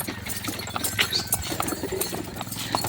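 A strong horse hauling coconuts on a cement road in Tayabas clops along in a steady, close, hard-edged rhythm of hoofbeats, with faint voices in the background.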